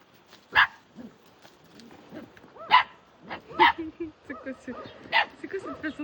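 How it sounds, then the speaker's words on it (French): A dog barks in short, close, loud bursts spaced a few seconds apart, with softer yips and whimpers in between. "C'est quoi cette façon d'aboyer là?"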